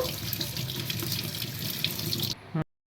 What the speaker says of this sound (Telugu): ఇప్పుడైతే అన్నీ కడిగి పెట్టుకున్నాం కదా మందార ఆకులు మందారం పువ్వులు కరివేపాకు గోరింటాకు